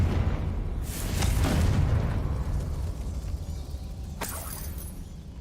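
A Confringo spell goes off in the Hogwarts Legacy video game: a deep rumbling blast swells early, then a second sharp burst cracks out later, both over a dense, steady game background.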